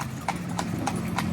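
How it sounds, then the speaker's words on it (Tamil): Hooves of a horse pulling a cart in Padang, Bukit Tinggi, West Sumatra, clip-clop in an even rhythm, four distinct steps over a low rumble of wheels and road noise. "குதிரை வண்டியில் இப்படி உட்காந்து போகும்போது ரொம்ப அருமையாகவும் இருக்குது"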